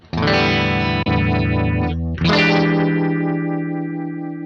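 Electric guitar through a phaser effect on a Hotone Ampero Mini multi-effects unit, sustained distorted chords with a sweeping whoosh, one brief break near the middle, then ringing on loud and alone.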